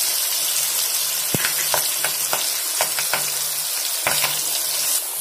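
Curry leaves sizzle and crackle in hot oil while chitranna tempering is prepared, giving a steady frying hiss broken by sharp pops and stirring clatters, close and moderately quiet.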